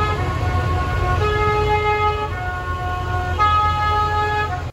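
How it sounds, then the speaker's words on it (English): Vehicle horns honk in layered sustained tones outside while large vehicles rumble low and steady underneath, fairly loud and continuous with no talk. "I don't know if you can hear all the noise in the background of horns and large vehicles."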